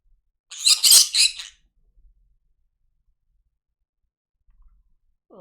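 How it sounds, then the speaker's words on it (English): A pet green-cheeked conure gives a sharp, loud burst of harsh squawking calls, then near silence with a faint start of another call at the end. "My green-cheeked conures."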